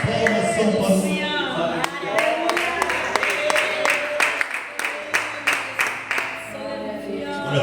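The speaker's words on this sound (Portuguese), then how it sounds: "pode se assentar em nome ao Senhor nosso Deus, com as palmas bem fortes e bem alegres." Rhythmic clapping from a congregation at a church prayer meeting, steady and fairly close, with music and singing voices mixed underneath.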